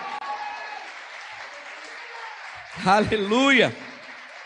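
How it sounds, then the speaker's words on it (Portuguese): A church congregation applauds softly and steadily in the background. Near the end, a voice rises loudly over the clapping for a moment. "Você pode aplaudir ao Senhor?"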